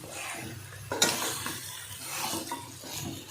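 Country chicken curry ingredients are sautéed in a pan, giving a soft frying hiss with scraping spatula strokes and a brighter clack of utensil against the pan near the start.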